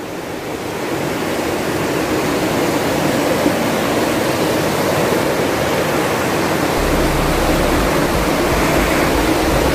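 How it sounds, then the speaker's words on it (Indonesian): A river flows beside a tubing site at Gunung Menir in Pamijahan, Bogor, giving a steady, loud rush of water throughout with no voices. "Di pinggirnya tuh sungai."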